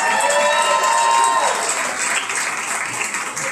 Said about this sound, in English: Let's give all these kids a round of applause.